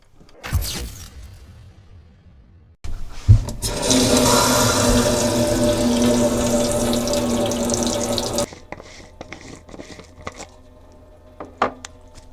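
Water gushes loudly from an RV tap for several seconds, close by, then cuts off, leaving scattered knocks and clatter.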